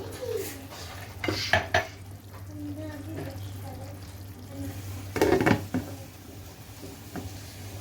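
A metal pot lid clanks twice in separate rattling bursts as a pot of boneless chicken Mughlai handi cooks on a low flame, over a faint steady kitchen hum.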